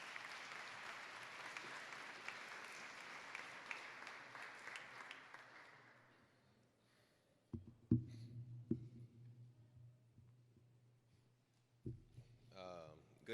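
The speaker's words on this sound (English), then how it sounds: "Give him a round of applause as he's coming." Applause from a crowd at a graduation ceremony fills the first half, then fades out, leaving a quiet room with a few scattered bumps and a brief voice near the end.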